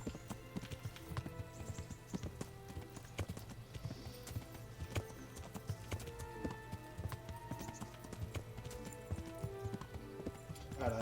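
Horse hooves clip-clop steadily in Kingdom Come: Deliverance, a continuous rhythmic trot at close range that persists throughout amid game ambience.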